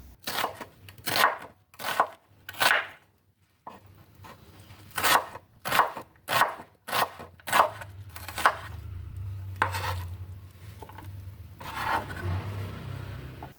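A knife thinly slicing half a large onion on a cutting board, with sharp close chops in quick bursts separated by short pauses, ending in softer scraping and handling, no speech.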